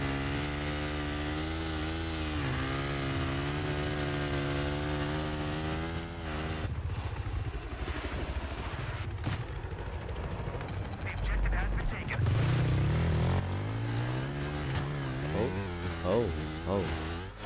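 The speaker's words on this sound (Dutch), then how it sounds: "Motors!" Vehicle engines rumble in the video game Battlefield 3, with a steady droning motor tone that shifts pitch, joined by bursts of gunfire and a louder roaring pass near the end, with speech faintly mixed in.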